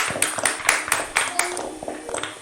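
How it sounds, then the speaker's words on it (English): An audience at an International Yoga Day session claps for a young boy, sharp uneven hand claps close by that taper off over a couple of seconds. "Big round of applause."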